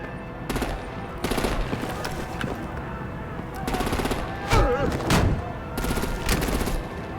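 Bursts of artillery and automatic gunfire in the Batman: The Enemy Within video game, several rapid machine-gun volleys of a second or so each separated by short pauses, fairly loud with faint background voices.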